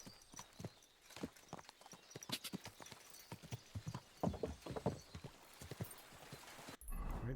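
Horse hooves clip-clop steadily on the ground in the video game Kingdom Come: Deliverance II, close and fairly loud with an uneven trotting rhythm, ending in a brief burst of broadband noise.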